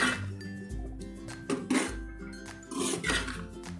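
Ripe Alphonso mango pieces are stirred in a pan on low heat for jam, giving repeated close clinks and scrapes of a utensil against the metal pan in an uneven rhythm, with no talk.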